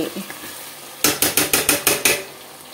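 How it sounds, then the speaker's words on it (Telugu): A spoon stirs chicken curry with mango pieces in a pan, striking the metal in a rapid run of about seven even scrapes after a quiet second, close and fairly loud over a faint sizzle. "ఇప్పుడు చక్కగా అంతా ఇట్లా కలిపేసేసుకుందామండి."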